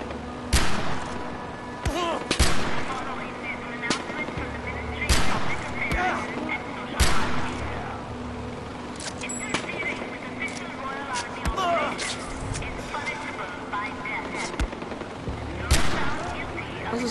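Gunfire from the Far Cry 4 shooter game, with sharp, loud shots cracking out in irregular bursts and single reports over a steady game background, some sounding near and others more distant.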